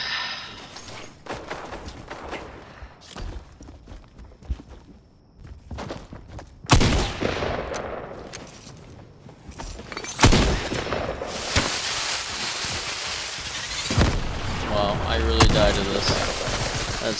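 Rapid AI bot gunfire in Fortnite, loud bursts and fusillades of shots with heavy blasts partway through, continuing densely toward the end, with a voice talking over it.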